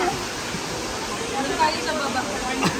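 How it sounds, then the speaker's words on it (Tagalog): Daranak Falls in Tanay, Rizal pours in a steady, broad roar of falling water, heard close and constant throughout the short stretch. "Enjoyin muna natin yung lamig ng kanilang falls dito."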